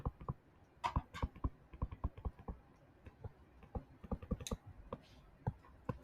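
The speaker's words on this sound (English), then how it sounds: "In our calculators, we are typing in this whole messy looking thing." Calculator keys pressed in quick succession while entering a tangent calculation during a precalculus lesson on angles of elevation and depression: many close, crisp plastic taps in an irregular rhythm, with no talking.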